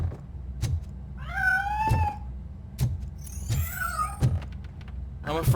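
A cat in the RoboCop Rogue City game gives two drawn-out meows, close by and clear, set among intermittent mechanical thunks and clicks over a low steady hum.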